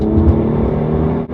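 A Cadillac CTS-V fitted with a Corsa axle-back exhaust gives a short, loud, deep engine rumble close by, a sustained low growl with a brief dip near the end.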